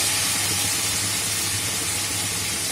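Fried potatoes sizzle in spice masala in a pan, a steady close hiss of frying oil throughout with no talk.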